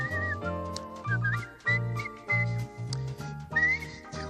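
Tuneful whistling of a cheerful melody, clear and close, with a bright steady pitch moving through short phrases over a soft accompaniment.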